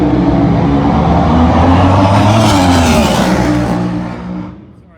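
A drag racing hot rod at the California Hot Rod Reunion runs its engine loud and close, the revs climbing to very high RPM with a harsh roaring tone. The roar then drops off quickly near the end as the car pulls away.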